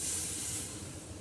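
Water poured into a hot pan while cooking a Punjabi tinda (round gourd) curry gives a soft, continuous hiss and sizzle that fades slightly over the brief moment, fairly quiet and close.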